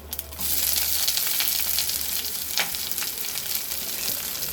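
Onion and two green chilies sautéing in a pan, giving a dense, steady sizzle that starts abruptly and continues with occasional soft stirring scrapes, close up and with no speech.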